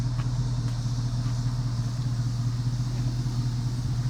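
A 2007 Chevrolet Avalanche truck's engine runs at a steady idle, a constant low rumble and hum holding evenly close by with no other sounds.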